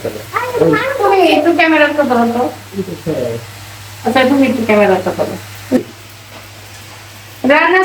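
Food fries in a pan at home, a soft continuous sizzle running beneath a woman's close, lively talking, with a low steady hum throughout.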